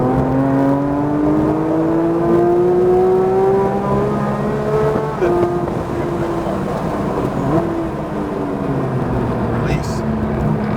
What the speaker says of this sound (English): Roll on the gas and accelerate.